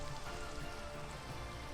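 Steady rain falling in the Minecraft video game, a soft continuous hiss of drops pattering on surfaces, even and unbroken with no voices.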